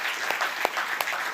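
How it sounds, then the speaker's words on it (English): A church congregation claps in scattered bursts, with several sharp individual claps standing out over a soft, steady wash of room noise. "Yeah, you can clap for that."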